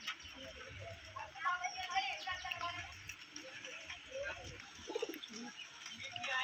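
Pet pigeons coo softly in a home loft, low repeated throaty murmurs mixed with faint chirps, heard quietly under someone speaking throughout.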